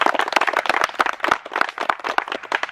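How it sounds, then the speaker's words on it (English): A small group gives a round of applause at a competition, with brisk, dense hand clapping close by that carries on steadily without talk. "let's give a round of applause to these 4 beasts down here"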